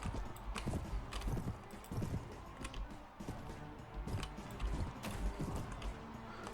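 Horse hooves clip-clop in the Mount and Blade: Warband video game, a rapid galloping rhythm of repeated hoof strikes mixed with creaking, clanking gear and mechanical game sounds, with no talk.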